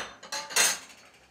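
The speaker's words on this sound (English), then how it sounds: "you can turn the pan off, take it off the burner" A metal pan lifted off a stove burner after blanching tomatoes, a few quick light clanks and scrapes of metal, close and brief with quiet between.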